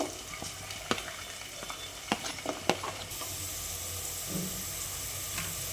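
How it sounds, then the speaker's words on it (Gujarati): Vegetables, potatoes among them, frying in a pan for mixed veg with paneer: a steady hiss of sizzling oil with sharp clacks of a spoon stirring against the pan, then a broader hiss. "બટેટા અને ગાજરને થોડું ચડવામાં વાર લાગશે એટલે પહેલાં એ 3 શાકભાજીને ફ્રાય કરી લઈએ"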